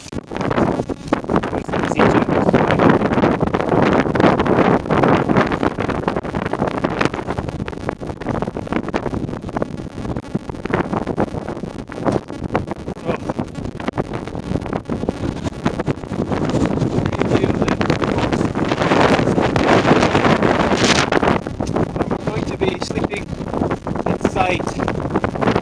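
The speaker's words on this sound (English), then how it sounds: "you can get an idea of just how strong the wind is" Strong wind buffets the microphone on a high mountain trail in Crete with snow about, a loud continuous roar and rumble in shifting gusts for the whole stretch, with a voice talking underneath it.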